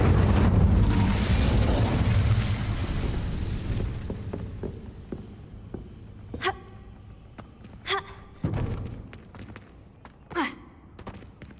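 An Incendio fire spell cast in Hogwarts Legacy, a loud whooshing burst that fades out, followed by several short sharp magical pops and impacts spaced a second or two apart.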